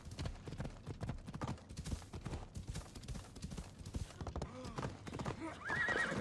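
Rapid hoofbeats of a galloping horse in the video game Assassin's Creed Odyssey clatter steadily, with a brief whinny near the end.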